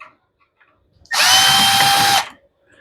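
A power drill backs out screws from the top cover of a lawn mower, giving one loud, high, steady whir that lasts about a second, close up, with quiet before and after.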